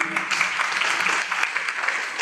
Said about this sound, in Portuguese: um aplauso aqui